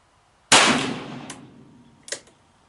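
A .38 wadcutter revolver clamped in a Ransom rest fires one sharp, loud shot that rings out and decays, followed by a fainter second report about a second and a half later.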